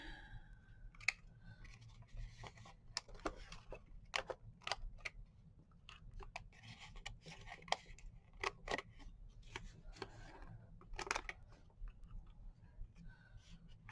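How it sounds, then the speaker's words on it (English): Quiet, irregular sharp clicks and snips from a corner-rounding tool and scissors cutting paper corners of a bullet journal, spread across the stretch with soft gaps between. "I need to cut the corners."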